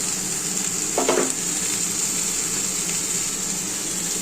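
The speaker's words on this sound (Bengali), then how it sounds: "বন্ধুরা দেখো সবজিগুলো খুব ভালো মতো ভাজা হয়ে গেছে" Pumpkin, eggplant and pointed gourd frying in a covered pan, giving a steady hissing sizzle with one brief stirring scrape early on, loud and even throughout.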